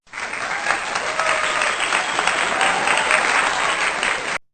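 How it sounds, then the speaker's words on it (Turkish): A dense burst of crowd applause rings out loud and continuous, holding steady for several seconds before cutting off abruptly at the end, with no voices over it. "Bu kadar alkış yeter."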